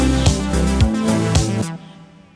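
A synthetic, slightly robotic singing voice from the EmVoice One virtual singer synth holds a few sustained notes over a backing beat, then cuts off abruptly into a quiet tail.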